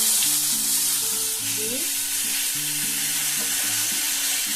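Vegetables fry in butter and refined oil for pav bhaji, giving a dense, steady sizzle close by, with tonal melody-like tones running underneath.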